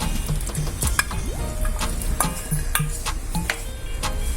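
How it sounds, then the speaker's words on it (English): Sliced aloe vera fries in a pan with a continuous close sizzle, while a spoon stirring against the pan adds regular light ticks. "I am going to add the aloe vera sliced into this."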